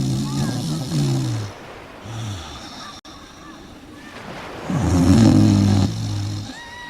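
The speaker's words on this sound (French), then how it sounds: "Il ronfle très fort." A cartoon character naps on the beach and snores loudly. The snores come as slow, rhythmic, heavy rumbling breaths, two long groups with a pause between them.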